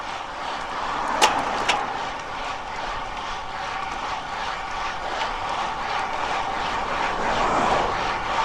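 A Winspace SLC 3.0 carbon road bike rolls fast over rough chip seal pavement, giving a constant loud roaring rumble of tyre and wind noise with a couple of faint clicks, and no talking.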